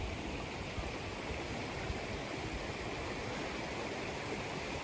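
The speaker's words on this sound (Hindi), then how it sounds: "ये फिर से पानी मंदिर की तरफ से होकर" Water pours down past a temple at the Sonatti falls in the Belgaum hills, a steady, close, unbroken rush of flowing stream with no voices.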